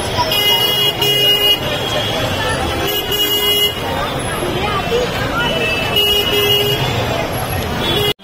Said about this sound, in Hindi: अब फटे ट्रैफिक है, सिर्फ गाड़ी की आवाज सुनने मिलेंगे आपको